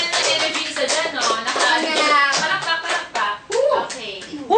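Studio audience clapping in a Filipino talk show, a dense spread of hand claps mixed with cheering voices, loud and close, dipping briefly near the end before swelling again.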